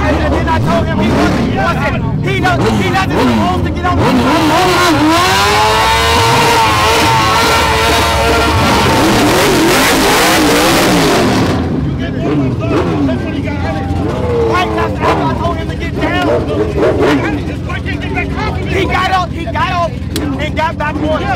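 A nitrous-fed Camaro and a nitrous ATS-V street race in Chicago, engines roaring loud and close with rising, sweeping pitch before fading, followed by crowd chatter and background hubbub.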